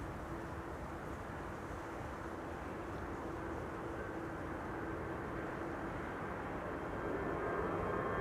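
Steady low roar of a Lufthansa airliner on its Frankfurt flight at Amsterdam Schiphol Airport, a broad engine rumble heard from a distance that holds even and swells slightly toward the end.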